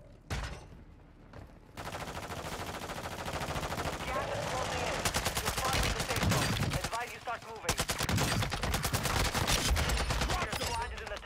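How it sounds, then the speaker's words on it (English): Assault rifle fire in Call of Duty: Modern Warfare II, long loud rapid automatic bursts filling almost the whole stretch after a brief quiet opening, with short gaps between volleys and game sounds beneath. "Assault rifle here."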